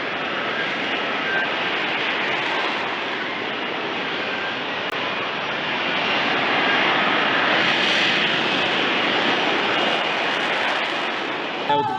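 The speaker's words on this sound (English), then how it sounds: "Is now selected maximum afterburner, displaying the raw power of the F-35B's engine." At an airshow, an F-35B's jet engine roars at maximum afterburner, a loud, broad, continuous rushing thunder that swells slightly as the aircraft passes.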